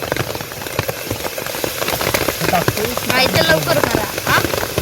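Steady heavy monsoon rain patters and hisses on surfaces beside a creek, dense and close, with a voice speaking faintly over it.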